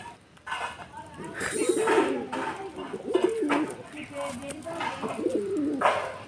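A pigeon with a badly reddened eye, held close by hand, coos in repeated low throaty phrases, with a few higher chirps among the calls.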